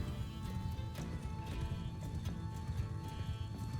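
Horse hooves clip-clop at a steady running gait in the Mount & Blade Bannerlord video game, continuous and fairly close under low rumbling game ambience.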